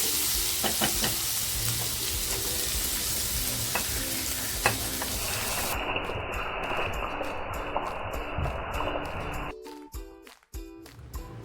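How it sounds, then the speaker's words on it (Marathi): Mixed vegetables for veg kolhapuri fry in a pan with a steady, loud sizzle and scattered stirring clicks, tapering to quieter bumps near the end, with no speech. "भाज्या आपल्या छान फ्राय झाल्या"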